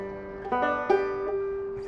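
A clawhammer banjo plays the Galax lick as three quick plucked eighth notes that ring out clearly and fairly softly on their own, with the last note left to sustain.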